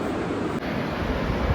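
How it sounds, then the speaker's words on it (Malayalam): A mountain waterfall near Drass in the Zoji La region, heard as a dense, continuous roar that stays loud and steady from start to finish. "വെള്ളച്ചാട്ടത്തിൻ്റെ സൗണ്ടും"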